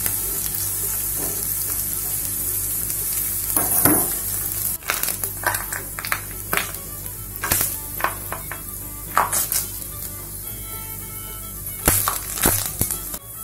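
Sago pearls fry in hot oil in a pan, a steady close sizzle broken by repeated scraping stirs and clatters of the spoon against the pan, no talk.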